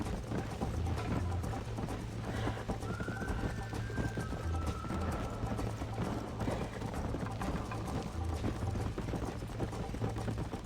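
Hoofbeats of a horse galloping in the Red Dead Redemption video game pound in a steady, continuous clip-clop rhythm, loud and close throughout, with a faint whinny-like tone rising briefly partway through.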